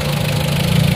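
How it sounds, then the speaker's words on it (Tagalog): The wiper motor of a Mitsubishi Adventure running slowly because of a poor ground connection, heard as a loud, steady, close mechanical whir with a fast rhythmic flutter and no talking. "Ito yung wiper motor."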